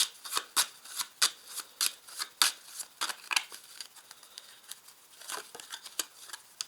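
Tarot cards being shuffled by hand, close and soft, in a quick run of riffling and flicking bursts, with no speech.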